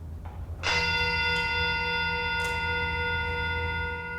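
Shamisen played to imitate a temple bell: a single struck tone rings out with a long, shimmering sustained decay, then a faint second strike, heard alone in a quiet room.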